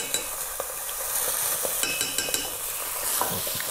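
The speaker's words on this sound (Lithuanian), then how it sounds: "Ir dar įdėsim pomidorų pastos, kurią pakepinsim prieš pildami vandenį, kad jinai nebūtų rūgšti." Tomato paste fries in a pan for chicken broth, a steady sizzle broken by scattered clicks and scrapes of stirring. It sounds close, with no talk.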